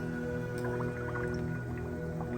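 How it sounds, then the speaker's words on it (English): Carbon dioxide gas bubbling through phenolphthalein solution in a flask, small close bubbles and soft drips popping irregularly over a steady humming background, without speech. "I see bubbles."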